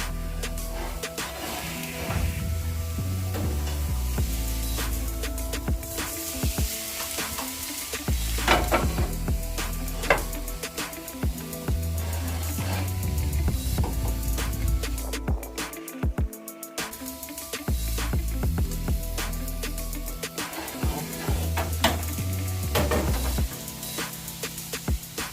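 A steak sizzles under the top flame of an Ooni Koda 16 pizza oven, a steady crackling hiss layered over a constant low burner roar, with occasional pops and metal clinks.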